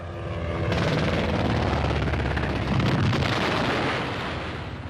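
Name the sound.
military airstrike explosions and gunfire, Rhodesian Bush War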